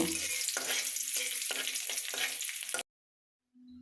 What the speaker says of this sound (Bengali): তেলটা গরম হয়ে গেলে এর মধ্যে শুকনো মরিচ রসুন দিয়ে দিব